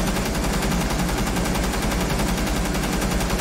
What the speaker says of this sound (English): It's basically an LMG, although it's an assault rifle with a drum mag. But you get 81 rounds.